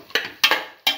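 Spoon scraping and clanking against a pan while stirring cinnamon beef, three sharp metallic strokes each followed by a short decaying rattle.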